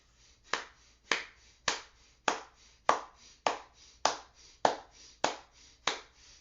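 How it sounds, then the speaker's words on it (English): Forceful, rhythmic nasal exhalations of a breath-of-fire breathing exercise: about eleven sharp, evenly spaced breath bursts, each dying away quickly, close and fairly loud with no talking. "Begin breath of fire."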